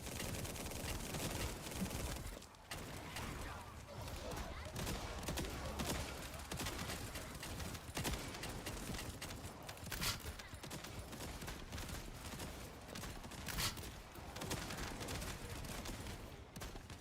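Rapid gunfire from The First Descendant, with dense automatic bursts rattling almost without pause amid other combat effects and short gaps between volleys.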